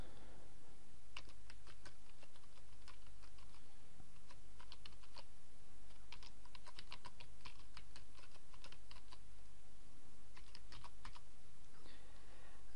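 Steady computer keyboard typing during WordPress admin setup, bursts of quick close keystrokes with short pauses, quiet and alone over a low background hum.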